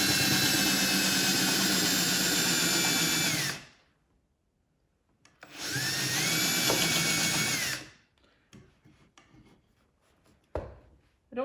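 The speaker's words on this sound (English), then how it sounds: "get the drill going, and then make forward contact" A power drill cuts into wood during joinery work, running loud and close in two sustained bursts with a pause between, its whine steady, followed by quieter handling knocks.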